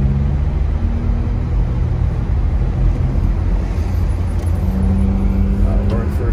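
A car engine drones steadily in first gear on a snowy road in Big Bear, California, a loud continuous hum that stays constant throughout, with no speech heard.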